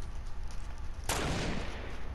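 Gunfire in the video game Fortnite: a quiet bed of distant shooting, then a sudden burst of dense rapid fire that keeps going to the end, with no talking over it.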